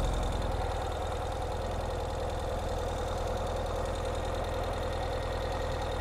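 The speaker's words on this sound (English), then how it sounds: "Let's get the engine started." A 2022 Ural Gear Up motorcycle engine starts and runs at a steady, rumbling idle close by, continuous and even throughout without pauses.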